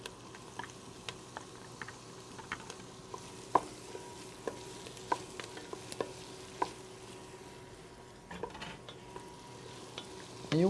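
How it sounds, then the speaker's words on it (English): Onions sweating in a pan with garlic and ginger for a sweet potato and apple soup, a soft steady sizzle broken by occasional light stirring clicks and scrapes, close and quiet. "you want to sweat your onions for a few minutes until they become a little translucent"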